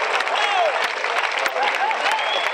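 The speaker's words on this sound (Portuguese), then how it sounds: "Pedem-se palmas de incentivo." A crowd applauding at a bullfight arena, a dense wash of clapping from many spectators that runs throughout, with faint calls and a voice rising over it.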